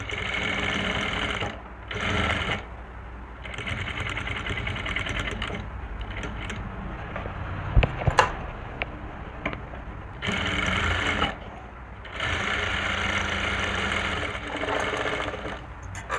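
A sewing machine stitching a V-neck collar onto a garment runs in several bursts of steady mechanical whirring, separated by short pauses, close and clear.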